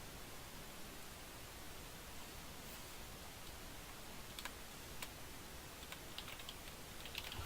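A few faint computer-keyboard keystrokes, typing a character's name into Fantasy Grounds during a D&D session, tap sparsely and irregularly beneath a steady hiss, mostly in the second half, with no voices.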